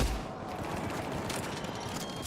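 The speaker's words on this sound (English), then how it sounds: "Who's shooting?" Sustained gunfire in the sci-fi shooter Mass Effect 3, a continuous dense crackle of shots at moderate distance with no pauses.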